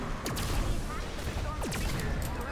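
In Fortnite, the De-Atomizer 9000 rocket launcher fires and explodes, giving a steady loud blast-heavy rumble with a few sharp bursts across the short span.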